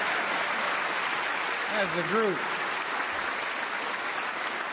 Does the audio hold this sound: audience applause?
yes